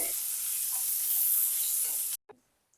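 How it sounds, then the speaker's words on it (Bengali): Aubergine and potato pieces frying in hot oil in a pan give a loud, steady, dense sizzle for about two seconds, then it cuts off abruptly, leaving a couple of faint clinks. "এবার বেগুন আর আলুটাকে কয়েক সেকেন্ড ভেজে নেব।"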